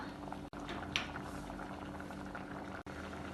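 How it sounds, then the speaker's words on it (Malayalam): A Kasaragod-style jackfruit seed and cucumber curry keeps bubbling in a clay pot after the heat is switched off. The steady boil is soft and continuous, with a brief gap twice. "ഇത് കരിച്ചട്ടി ആയതുകൊണ്ട് തീ ഓഫ് ചെയ്താലും കുറച്ച് സമയം തിളച്ചുകൊണ്ടിരിക്കും"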